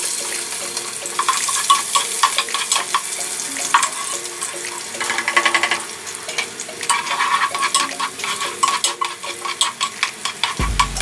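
Onion and garlic hit hot oil for pancit bihon and crackle in a loud, busy sizzle with frequent spatters and stirring scrapes, building as the pan fries, with no voices.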